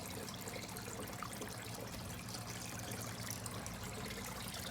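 Water trickles steadily through a hydroponics filter carrying fish-tank water toward plants, a soft continuous dribble under a low constant hum, with no voices.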